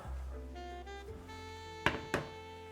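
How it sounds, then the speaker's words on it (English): A lid set onto a pot of chicken bones and water for daikon chicken soup, two distinct knocking thunks close together over a quiet background hum. "Lid on."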